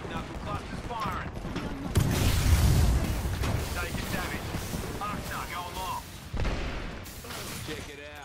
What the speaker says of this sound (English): Step back, knuckle cluster's firing.